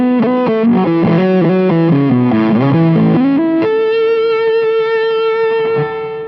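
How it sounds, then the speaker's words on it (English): Electric guitar with reverb and stereo delay plugins: a quick run of distorted melodic notes, then a long sustained ringing chord that slowly fades, loud and alone without talk. "I'll start with the dry signal, then add the reverb, and then the delay."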